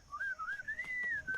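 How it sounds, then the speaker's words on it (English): A clear whistled melody from the Sam and Max: Time and Space video game glides up and down in pitch for about a second and a half, close and steady with no talk. "What is that enchanting whistling sound?"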